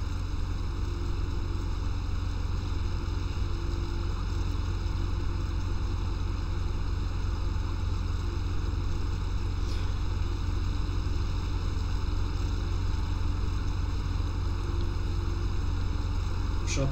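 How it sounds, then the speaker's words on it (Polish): Steady, unbroken machinery drone of a hay rake working in Farming Simulator 17, a continuous mechanical hum with tonal bands that holds at an even level throughout, close and alone without pauses. "Przy okazji możecie sobie zobaczyć, jak pracuje ta zagrabiarka."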